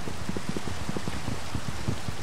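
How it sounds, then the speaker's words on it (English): Rain patters steadily in the Minecraft video game, a soft continuous hiss dotted with light drops and no voices over it. "Oh, hey, it's raining."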